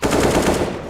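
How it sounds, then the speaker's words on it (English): AK rifle firing a rapid burst in a Counter-Strike esports match, a dense, loud stream of gunshots lasting about a second with no voices over it. "Burst up with the AK"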